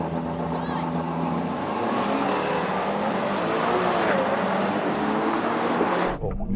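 Ferrari Purosangue, BMW X5 M and a Chinese performance SUV accelerating hard in a drag race, a loud, sustained engine roar with rising pitch over about six seconds that cuts off abruptly near the end, with voices faintly mixed in.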